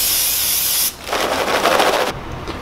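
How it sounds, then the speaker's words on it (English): Butter-flavor cooking spray hisses out of the can in short bursts over popcorn, close and fairly loud, with rustling in between. "Take some Pam spray or some Great Value butter flavor spray."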